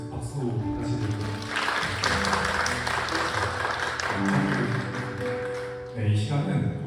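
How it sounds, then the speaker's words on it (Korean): A church chapel congregation applauds the preacher, scattered clapping heard under a sustained keyboard or worship music backing and some voices. "좋은 말씀 전해주신 전사님께 다시 한번 박수 다시 드리고요"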